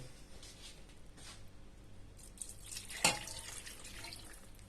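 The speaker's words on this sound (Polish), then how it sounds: "teraz wleję sobie tutaj szklankę wody" A glass of water is poured into a pressure cooker over vegetables, giving a faint trickling and splashing with one sharp louder splash near the end, no talking.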